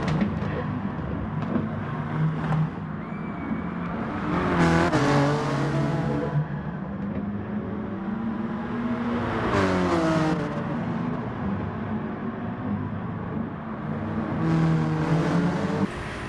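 Race car engine from a racing video game lapping a track in a Sirocco, a steady loud drone with rising and falling revs and gear shifts, surging louder at several points across the run.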